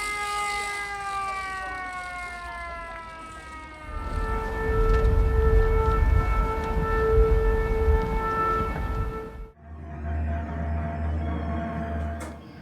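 A masked woman walking among old artillery pieces in Sarajevo swings a wooden matraca ratchet to imitate an air-raid siren before a bombing. Loud, sustained wailing tones rise and fall, thickening into a rumbling roar midway before an abrupt shift.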